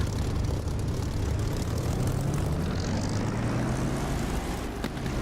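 Propeller aircraft engine in the DCS flight simulator throttling up on a taildragger, a loud continuous droning roar with a low rising tone, steady and close throughout.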